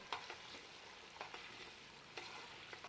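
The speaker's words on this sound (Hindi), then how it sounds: "अब इसको थोड़ा हमने इस तेल के साथ भूना" Mutton pieces from a yakhni frying in oil with ginger in a pan, a steady soft sizzle with occasional louder stirring scrapes, fairly faint and close, no voices.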